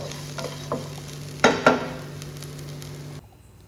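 Masala roasting in a pan for tomato gravy, with a soft, steady sizzle and a few sharp scrapes of the spoon stirring, before the sound cuts off abruptly near the end.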